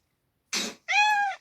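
A cat lets out a short rough breathy sound followed by a single clear, drawn-out meow, close and alone against silence.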